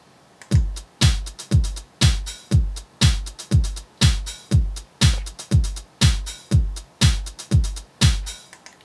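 A drum beat programmed in Pro Tools plays back with steady kick and snare hits and a running hi-hat pattern, about two hits per second, loud and clear with no talking.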